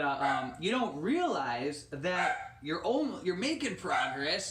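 A pet dog named Rose barks and yips repeatedly indoors, close and loud, mixed in with a person talking over the barking.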